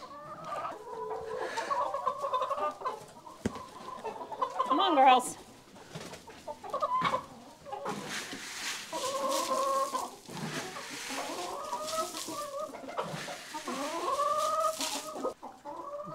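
Backyard hens cluck and murmur steadily at bedtime in their coop, near and fairly loud, with a person talking to them over the flock's continuous chatter.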